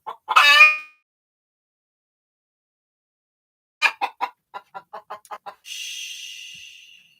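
A hen at a nest with eggs gives a loud squawk, then after a pause a quick run of short, close clucks, ending in a drawn-out, higher-pitched call.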